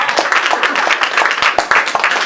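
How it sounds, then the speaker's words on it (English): A live comedy show crowd at a club breaks into a dense wash of applause, with many hands clapping in quick, overlapping bursts that stay loud and steady throughout. "Big round of applause for Natalie's mama."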